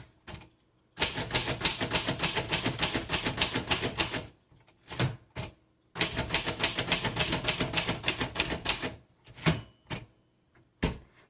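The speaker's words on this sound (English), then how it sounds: "The keys are springing back pretty well." A 1935 Royal Model O vintage typewriter clatters with two long bursts of rapid, evenly paced key strikes, split by a short pause and followed by a few isolated taps, close and loud with no voices.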